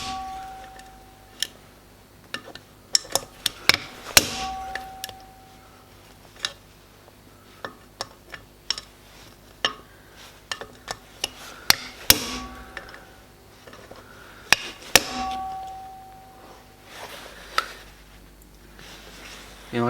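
Sharp metallic taps from a hammer striking an extension bar and socket held on an engine valve, freeing the valve collets on a DW12 cylinder head. The knocks come in irregular bursts, close and crisp, with quiet gaps between them.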